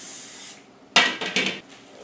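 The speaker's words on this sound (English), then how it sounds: "spray some of your favorite non-stick cooking spray on" Non-stick cooking spray hisses from a can onto a pizza pan up close: a soft spritz, then two or three sharp bursts in quick succession.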